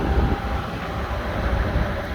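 A train rumbles at Wrexham General station, a steady, fairly loud low mechanical drone with a faint whine, continuous throughout with no voices.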